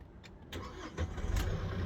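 A 2018 Hyundai Grand Starex with a D4CB Euro 5 diesel engine, carrying a fuel rail pressure fault, cranks and catches in one quick start, the low rumble swelling into a steady idle close by.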